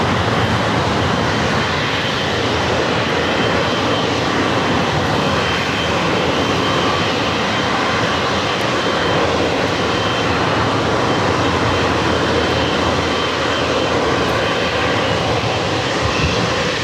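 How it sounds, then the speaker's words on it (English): Kalitta Air cargo jet on arrival from Anchorage at LAX: a loud, unbroken engine roar that fills the whole span at a steady level, close and without voices. "Coletta Air Flight 237 coming in from Anchorage"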